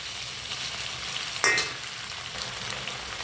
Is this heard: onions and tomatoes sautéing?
yes